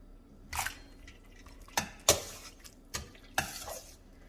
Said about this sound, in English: you're just going to put all of these into the cold water